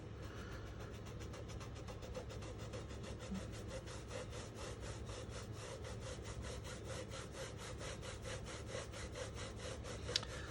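Sand eraser rubbed on a paper card, a fast regular back-and-forth scrubbing that stays close, steady and fairly quiet for the whole stretch, with no talking.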